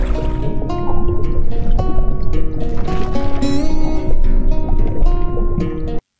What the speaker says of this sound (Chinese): 继续添加了泡沫、水下深海潺潺音效和海底冒泡声